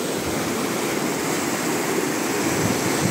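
Floodwater rushes over a small dam (anicut) near Kavali after a night of heavy rain, a loud, steady, broadband roar close to the listener with no voices.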